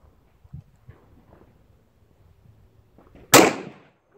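A single sharp gunshot fired at a target on a shooting range, loud and close, rising out of near silence late in the clip with a short decaying tail.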